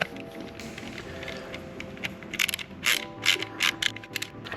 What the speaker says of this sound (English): I just balance the screw on top of the screwdriver, then you have to come at it from underneath.